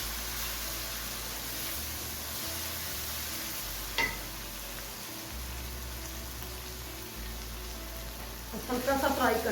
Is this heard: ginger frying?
yes